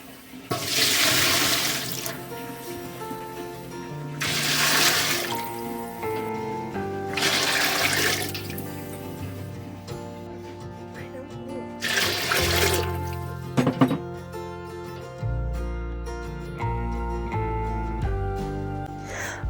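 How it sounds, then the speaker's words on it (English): Glass canning jars are washed and rinsed under a running kitchen tap while making spiced peach jam. Several loud bursts of flowing water come and go over steady background music. "here I am washing my jars and checking them over for any chips or cracks"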